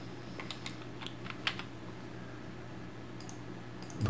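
Keystrokes on a computer keyboard as an Excel VLOOKUP formula is typed, a sparse run of quiet clicks spread across the span, close and alone with a steady low hum behind.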